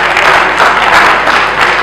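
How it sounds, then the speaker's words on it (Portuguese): Loud, thick applause from a conference audience at an entrepreneurship event for presenter Catarina Diniz: a continuous wash of many hands clapping together, close and steady for the brief moment heard. "Uma salva de palmas para a Catarina Diniz."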